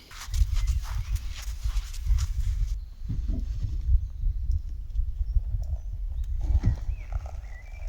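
A ridden horse whose hooves clip-clop in a steady walking rhythm, close and fairly loud, with brief bursts of rustling and tack noise.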